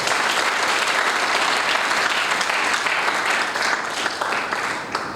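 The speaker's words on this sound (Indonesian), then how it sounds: "Tepuk tangannya buat Tuhan kita." A church congregation applauds together during an Indonesian sermon, a dense, steady wash of clapping that stays loud for the whole stretch and thins slightly near the end, with no talking over it.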